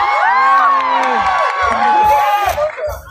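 A concert crowd at Tashkent City Park cheers and shouts to vote for a song, a loud burst of many overlapping voices whooping, with rhythmic clapping pulses underneath.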